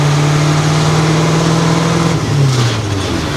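A Ford cabover truck engine running loud and close at about 1400 rpm in fifth gear, a steady droning hum that drops in pitch near the end as the revs fall.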